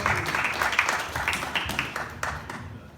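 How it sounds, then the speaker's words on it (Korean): A church youth-group congregation applauds at a Sunday service, a burst of clapping that thins out and fades over a few seconds, with no one speaking. "우리 다시 한번 박수로 축하하도록 하겠습니다"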